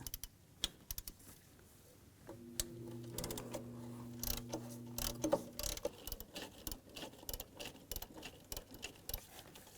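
A ratchet with a 10mm socket clicks in quick, uneven bursts while loosening exhaust nuts on a 2002-2009 Chevrolet Trailblazer, close up in a garage, with scattered metallic knocks and a short tonal whir in the middle.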